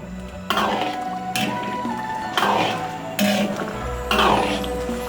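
Fresh bamboo shoots are gently stirred in a pot of boiling water in a Chongqing-style home kitchen. Four close, distinct strokes of a utensil clatter and scrape against the pot, each followed by a brief wash of bubbling water.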